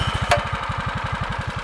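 A stealth mini bike's small engine, just pull-started with choke on, runs at a steady rapid idle, close and continuous, with a brief sharp click near the start.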